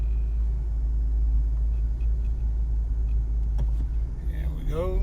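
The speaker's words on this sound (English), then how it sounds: "This is typically the about 3 mile test drive I take all the customers on." A 2002 Nissan Pathfinder SE on a roughly three-mile test drive, its engine and road rumble forming a steady low drone heard from inside the cabin, with someone talking over it.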